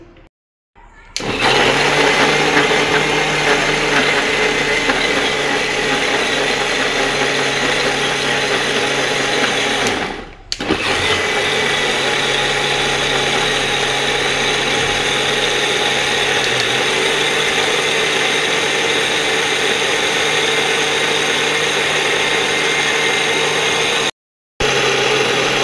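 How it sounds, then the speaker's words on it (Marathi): An electric mixer grinder whirs continuously as it churns cream (malai) for homemade ghee, a loud steady motor whine with one brief stop around the middle before it restarts. "आता मिक्सर चालू करून आपण ही साई"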